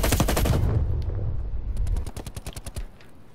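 Rapid bursts from a Stoner light machine gun in a video game, a dense loud volley that breaks into a short run of distinct separate shots before cutting off.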